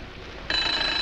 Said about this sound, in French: Le téléphone Le téléphone Le téléphone Le téléphone